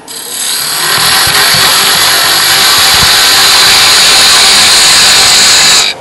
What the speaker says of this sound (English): So here I am going to cut that tenon again.